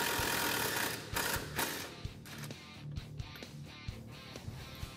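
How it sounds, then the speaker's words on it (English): A ratchet wrench taking the nut off the shock bolt on the trailing arm of a Polaris RZR XP 4 Turbo, with rapid clicking bursts and brief pauses nearby, no speech. "remove our shock bolt from our trailing arm"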